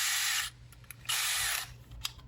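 Cordless power drill on a low torque setting driving slightly longer 12mm shell screws while building an MHP LMG kit, two loud whirring bursts with a short faint click between them and a brief spin near the end.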